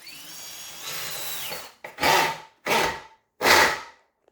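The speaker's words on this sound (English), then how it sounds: "I'm going to take my deck screws with my drill and go everywhere where I use the nail gun" A power drill drives deck screws into wood while an archery target stand is being built, with three separate loud whirring bursts, each lasting around half a second, after a longer steady stretch of close-up drilling.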